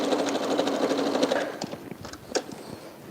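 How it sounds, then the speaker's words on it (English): A sewing machine stitches a quilt block border, a fast close rhythmic whirring run that stops partway, followed by scattered clicks and fabric handling. "Let's get this last border sewn on the center piece here."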